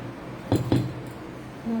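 A spoon stirs a warm ice cream mixture in a bowl to cool it, making two quick, close clinks against the side, followed by quieter scraping.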